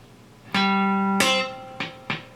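Electric guitar playing a country single-note train beat lick with ghost notes at full tempo: a sustained low note rings, then a second attack and two quick muted plucks follow, clean and close with no voice.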